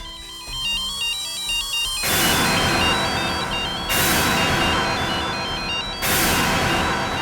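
A phone rings in a repeating electronic ringtone pattern, loud and steady with bursts recurring every couple of seconds, with no talk over it, in an indoor scene from a Hindi crime drama.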